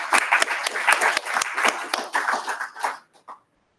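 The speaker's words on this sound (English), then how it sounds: "we should really give her a round of applause." Applause from a meetup audience at a web components gathering, steady dense clapping for about three seconds that thins out to a few final claps before silence.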